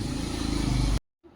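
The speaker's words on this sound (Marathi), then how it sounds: "गाड्यांचा पण आवाजच येतो खिडकीमध्ये बसलेली आहे मी" A vehicle passes outside a window with a loud, close engine roar for about a second, then cuts off abruptly, leaving a brief silence before faint noise returns.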